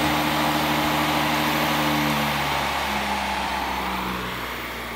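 A disassembled treadmill motor spins at full speed on the bench, giving a steady electric hum and whir with tonal lines that shift slightly. It eases down a little near the end.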